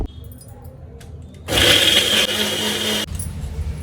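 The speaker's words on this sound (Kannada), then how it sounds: "ಇದನ್ನು ಚೆನ್ನಾಗಿ ನುಣ್ಣಗೆ ರುಬ್ಕೊಳ್ಳೋಣ." A mixer grinder runs at full power, grinding ingredients for tomato pulao into a smooth paste with a little water, a loud steady whine and roar lasting about a second and a half before it stops, with quieter handling noise around it.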